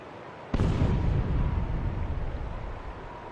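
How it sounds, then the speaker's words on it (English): A gunshot in the video game Yakuza 5 cracks out as one sudden, loud blast whose rumbling boom slowly fades over several seconds. "Gunshot? What was that?"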